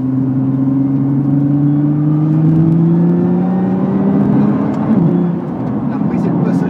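A Nissan GT-R with an aftermarket exhaust accelerates hard at the Val de Vienne circuit, its engine drone climbing steadily in pitch before a gear change near the end, loud and close throughout.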